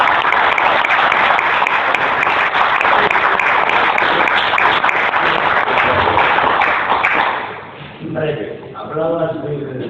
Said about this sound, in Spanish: quisiera un aplauso para él